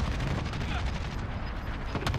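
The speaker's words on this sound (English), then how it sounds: "Another team shooting at him." Dense, continuous gunfire from an online shooter game rattles throughout as one team fires on another, loud and close with overlapping shots and no clear gaps.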